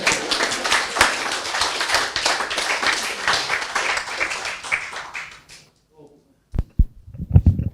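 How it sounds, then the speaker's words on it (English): An audience claps and applauds after a lecture on suspect convictions and a criminal cases review commission, dense clapping for about five seconds before fading into a brief silence and a few bumps. "A big round of applause."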